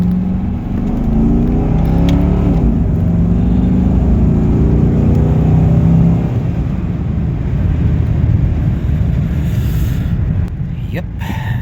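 A Lumina SS accelerates on a road test drive, its engine droning loudly and steadily with a rising, revving note, heard from inside the car.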